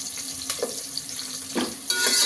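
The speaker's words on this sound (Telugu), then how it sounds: "ఉల్లిపాయలు అయితే బాగా కలగొచ్చే వరకు ఫ్రై చేసుకోవాలి" Onions frying in a pan for chicken biryani, a steady close sizzle with a few stirring scrapes and clinks from a utensil, no voices.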